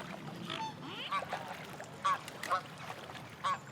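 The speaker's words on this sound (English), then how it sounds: "A mute swan will hiss and grunt." Mute swan, a large white swan with an orange bill and knob, giving short grunting calls and nasal honks at intervals, alongside rustling and faint background noise.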